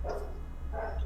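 A dog barks in the background of a home during a podcast voice call, two muffled bursts about a second apart, faint and distant.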